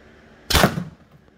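A single loud CO2 air gun shot fired through a Grimburg or TCR A5 barrel, a sharp broadband blast that rings briefly and decays within about a quarter second, standing alone against a quiet background.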